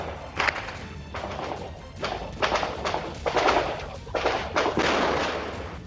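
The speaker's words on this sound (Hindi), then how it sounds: "थोड़ी ही देर में गोलीबारी और धमाकों की आवाजें गूंजने लगी।" Gunfire and explosions echo during a security-force encounter with militants, a string of sharp cracks and heavy thuds arriving in irregular bursts at a middle distance, with no voices over them.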